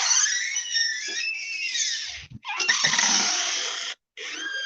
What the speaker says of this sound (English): Sorry for the door creak.